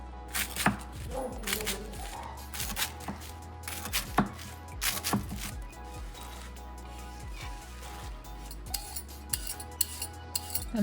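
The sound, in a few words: knife chopping spinach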